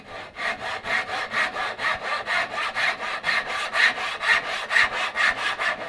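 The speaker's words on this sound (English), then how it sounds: "So I just cut along that slanted shoulder until I hit my little haunch." A hand saw cuts a wood joint along a slanted shoulder, with the work held in a luthier's vise while building deck beams for a 2.4mR sailboat; steady rhythmic rasping strokes, about three per second, loud and close with no talk.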